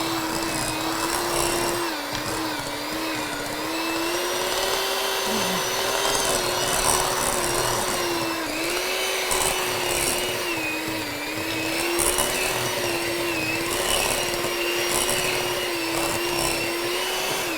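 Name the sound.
electric hand mixer creaming butter and sugar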